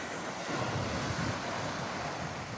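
Strong coastal wind roars and buffets the microphone at a seaside spot near a temple where people fish, with surf washing underneath in a steady, close, unbroken rush.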